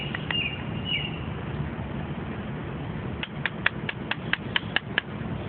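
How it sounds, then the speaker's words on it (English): A flathead screwdriver is struck repeatedly on the edge of a motorcycle fork seal protector on a Honda F4i, producing about eight sharp, evenly spaced metallic taps close by in the second half, following a quieter stretch. "grabbing a flathead, putting it on the edge like so,"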